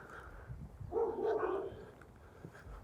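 Dogs bark from among nearby homes in a few short, rough bursts at moderate distance, with no talk over them.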